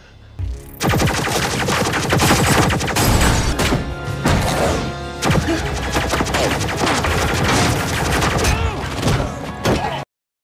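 Sustained, loud bursts of automatic gunfire and heavy impacts in a war film battle scene, rapid shots layered with crashes and thuds, barely pausing over ten seconds.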